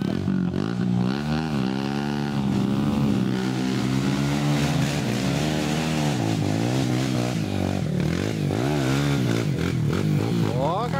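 A motorcycle engine on an adventure trail event course revs and labours loudly and close, its pitch rising and falling continuously, with voices calling out over it.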